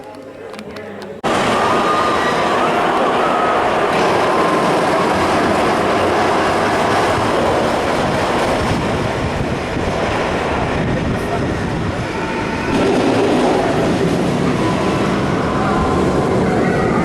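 Flying Aces roller coaster train at Ferrari World rushing along the track, a sustained loud roar of wind and wheel rumble that starts abruptly and swells again near the end.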